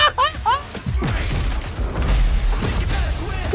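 Explosions and booms roll through a Battlefield video game battle, with a dense, heavy low-end rumble, sharp crashes, and whistling, sweeping effects early on.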